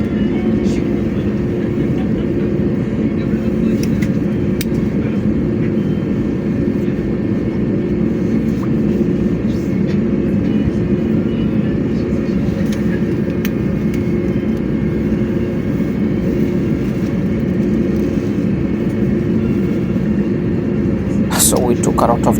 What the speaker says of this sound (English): So we took a lot of time taxiing from the runway to the apron.